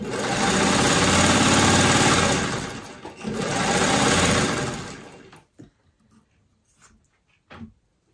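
A sewing machine stitching a quilt runs in two loud, steady whirring bursts, pauses briefly between them, then stops, leaving faint handling clicks and rustles.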